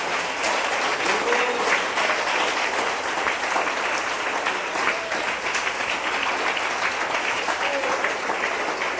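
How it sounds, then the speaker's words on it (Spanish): A church congregation applauding during a Spanish-language sermon, steady even clapping from many people that fills the room and carries on throughout without pause. "Denle ese aplauso al Señor."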